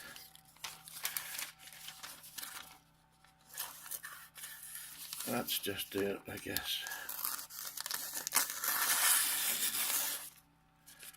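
A steel-bladed folding knife with a liner lock slices through thin telephone-directory paper, giving rasping, tearing cuts and crinkling in bursts. Someone talks quietly between the cuts.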